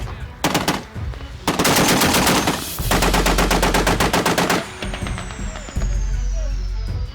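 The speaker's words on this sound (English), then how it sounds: "The M2 Browning .50 caliber machine gun is one of the most famous American weapons." An M2 Browning .50 caliber machine gun fires in several long, loud automatic bursts of rapid, heavy reports, separated by short breaks, with a low rumbling background between volleys.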